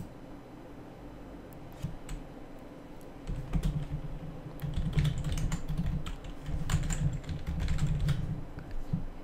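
Keys clatter on a computer keyboard as a file path is typed on a Windows 7 PC, a close, quiet run of quick taps that grows busier and denser partway through, with no voice.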